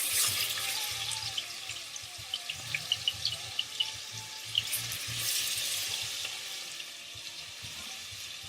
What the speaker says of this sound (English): So we'll fry the oxtail on both sides before pressuring or cooking in the pot